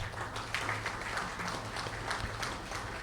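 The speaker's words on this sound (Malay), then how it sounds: "Satu tepukan pada mereka" Applause from the audience at a monthly assembly of the Malaysian Fire and Rescue Department's air division, a steady, moderately loud wash of many hands clapping over low hum, continuous for about three seconds.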